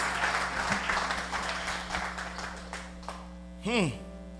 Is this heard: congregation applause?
yes